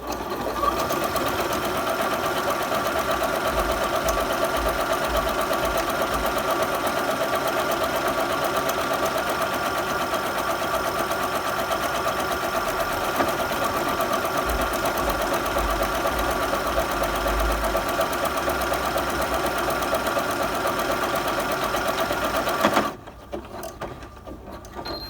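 A Bernette b37 sewing machine stitches a keyhole buttonhole with a loud, steady, close mechanical whir and rapid needle chatter that runs without a break for about 23 seconds, then stops abruptly.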